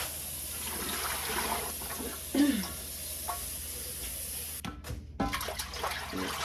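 Water runs and splashes into a pressure canner being filled before jars go in, a steady low gush with a brief louder splash partway and a short break near the end.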